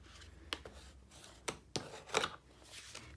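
Card being cut and trimmed by hand, a few sharp snipping and scraping strokes close by, separated by short pauses.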